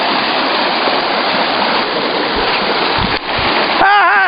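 A fast-moving mountain stream rushes loudly and steadily at close range, a broadband roar with a brief dip and a splash near the end, where a voice begins to speak over it.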